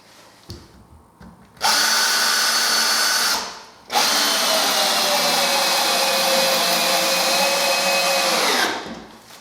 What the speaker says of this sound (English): I'm just going to put a couple of screws in there.